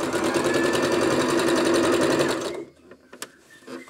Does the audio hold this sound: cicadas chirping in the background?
no